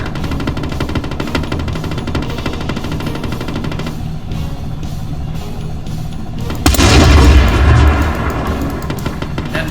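A tank cannon fires in the video game Total Tank, one heavy booming blast landing late and standing out loudly against a steady rumbling engine and battle background.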